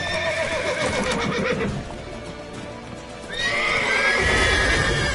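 A horse whinnies loudly twice, with a break between calls, over a busy synthetic PS4 game soundscape with clip-clopping hooves.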